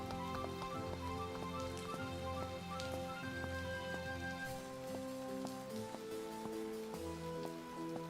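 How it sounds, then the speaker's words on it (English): Steady rain patters on surfaces in a medieval tavern building simulator game, soft and continuous under light tonal background music with no voices. "Been raining all day."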